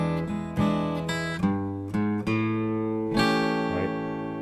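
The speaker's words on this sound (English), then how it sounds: "what I'm doing is linking the chord changes together by way of the bass line" Slow acoustic blues guitar links chord changes with a walking bass line leading up into each chord, a few strummed chords ringing out between low single notes, close and alone.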